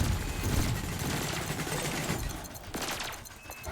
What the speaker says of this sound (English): Your cannon will automatically reload until the ammunition supply runs out.